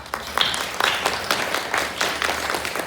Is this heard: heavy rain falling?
no